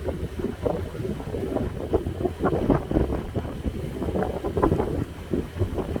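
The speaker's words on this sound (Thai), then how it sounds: "อันนี้การล่องเรือข้าม อันอัพวอตรึกหรือว่าสะพาน" Boat cruising across a water bridge over the Elbe river in Germany, with steady low engine rumble and water churning, buffeted by wind noise on the microphone throughout.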